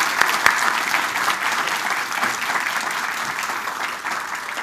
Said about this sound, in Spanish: Un aplauso, por favor, para usted.